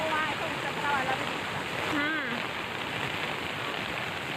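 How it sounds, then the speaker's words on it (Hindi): Rain falling in Betul as a dense, continuous hiss of water, with a voice speaking over it. "कई जगह रुक रुक कर भी बारिश हो रही है।"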